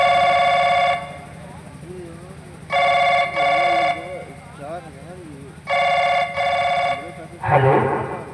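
A telephone rings in repeated electronic double bursts with pauses between, in a Hindi nautanki comedy performance, over a soft background with warbling music, ending in a brief rustle.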